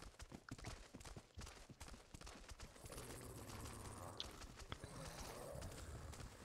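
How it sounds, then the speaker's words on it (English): A horse trots in a Game of Thrones–themed video game. Quick, evenly spaced hoof clops ring out near and clear for about three seconds, then the gait softens under a wash of background noise. "The horse is trotting kind of funny."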